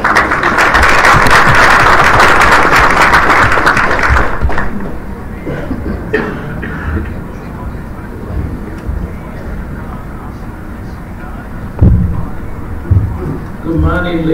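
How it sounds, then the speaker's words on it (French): Applause from the audience at a world assembly in Dakar, a loud, dense clapping wash for the first four seconds that fades away, followed by quieter room sounds, a few thumps and speech. "Applaudissez encore une fois."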